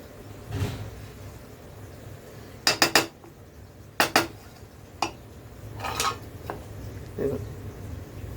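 Cashews being stirred into paneer masala pulao in a pot, heard as scattered metallic clinks and rapid clusters of spoon scrapes against the pot, separated by quiet gaps, with no clear talking.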